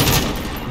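Sentry gun firing in the video game Modern Warfare, a dense continuous burst of rapid automatic shots, loud and steady through the brief moment with no pauses.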